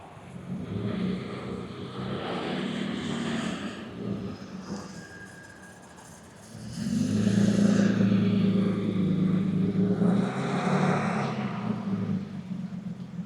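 A Euro-market 1974 BMW 3.0CS with a 4-speed gearbox moves off from a standstill, its engine idling steadily and then rising to a louder, fuller run as it pulls away nearby, with no talk over it.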